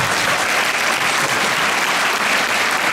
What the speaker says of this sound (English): Give Mr. Murdoch Walker a great hand of applause